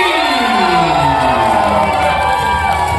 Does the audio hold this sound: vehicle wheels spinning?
no